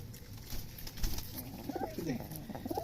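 Pigeons coo in low, throaty bursts close by while eating paddy, repeated several times over soft background rustling and faint noise.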